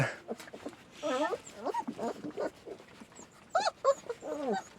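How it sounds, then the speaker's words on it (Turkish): Puppies whimper and yelp in a close, busy tangle of squeaky cries, rising and falling as they squabble, with a few soft human sounds mixed in. "Daha yürümeyi bilmeyip de kavga eden köpekler var burada"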